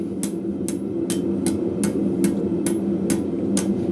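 Light hammer blows graze a hot steel leather scribe on an anvil during forging, ringing as evenly spaced sharp metallic taps, about two per second, loud and close with a low background hum and no talk.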